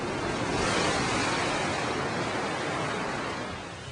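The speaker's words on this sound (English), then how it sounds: "the Corps first heard the crashing of ocean waves" Ocean waves crashing on a shore, a continuous loud broadband wash of surf that swells and slowly recedes, with no voices.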